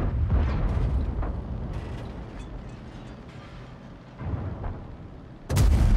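A tank cannon fires in a video game: a loud opening blast that decays into mechanical clanks and creaks, a few sharp ticks, and a second heavy boom right at the end.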